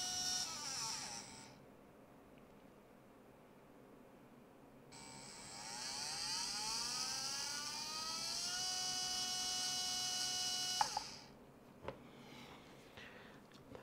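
A brushless motor on a SkyRC motor analyser spins up to about 22,000 RPM, a high electric whine that rises in pitch, holds steady for several seconds and then cuts off, followed by a few small clicks.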